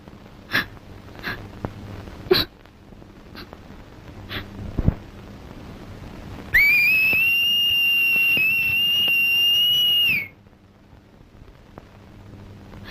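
A single steady, high whistled note held for about four seconds, fairly loud, after a few scattered clicks and taps.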